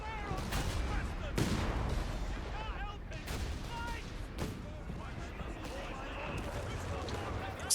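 Artillery fire in the video game Company of Heroes 3, with several sharp, heavy booms at irregular intervals mixed with other battle effects, while someone talks throughout.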